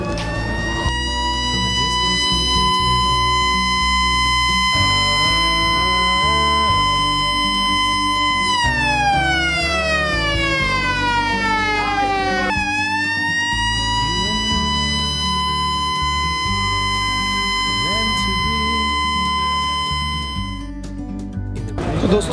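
A ferry launch siren sounds before departure in Bangladesh, bound for Bhola: a loud, sustained tonal wail that holds steady, sweeps down and then back up in pitch, with engine rumble underneath. It goes on for about twenty seconds. No one speaks.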